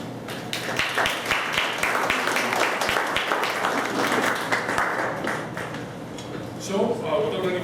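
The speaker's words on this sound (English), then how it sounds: "Let's give them a round of applause." An audience applauds sponsors at a Wood Buffalo community policing event, producing dense continuous clapping that holds steady for several seconds before fading as a voice begins near the end.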